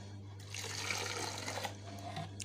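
Water pours steadily from a tap or jug over pickled eggplant and peppers, a close, continuous splashing rush that lasts about two seconds with no voices.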